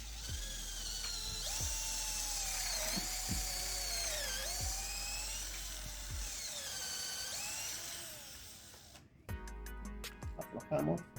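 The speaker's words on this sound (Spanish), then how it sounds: "Ahora hacemos los otros dos agujeros." Power drill boring holes into a wooden drawer, the motor whining steadily with pitch dips as the bit bites, then cutting off into a short burst of clicks and knocks.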